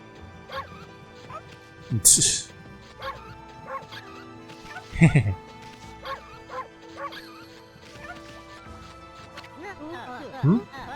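Dog barks from the video game Okami, a few short yips and bow-wows spread across the stretch over game music and ambient sound, with a couple of louder barks standing out.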